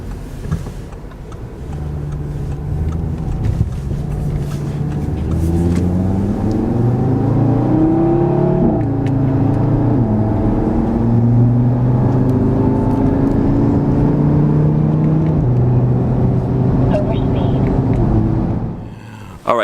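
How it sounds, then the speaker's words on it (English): A 2018 Audi TT RS accelerates through its gears, the engine drone rising and falling in pitch with each shift, steady and loud from inside the car. "I hope you guys enjoyed that little quick ride in the Audi TT RS"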